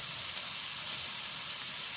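Onions sizzling with meat in a pan for butter chicken, a steady, even frying hiss that holds at one level throughout, close and continuous with no talk.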